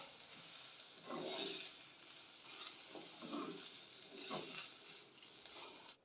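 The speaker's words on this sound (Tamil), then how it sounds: "இப்போ இதெல்லாம் ஒரு கப் ஃபுல்லாக துருவின தேங்காய் சேர்த்து வறுத்துக்கோங்க." Grated coconut roasts in a pan on medium flame, a constant dry sizzle with repeated scraping stirs rising and falling, close by and without speech.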